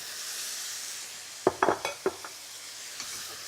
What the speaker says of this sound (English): We just need to coat them in the black bean sauce.